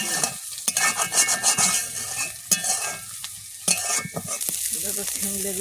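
Vegetables sizzle in hot oil in a pan while a utensil stirs and scrapes, with bursts of clatter and hiss rising and falling over several seconds.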